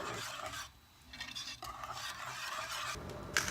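A whisk stirs cheese into hot milk and roux in a pot for macaroni and cheese, giving a soft, steady scraping and swishing at close range, with a brief quieter pause partway through.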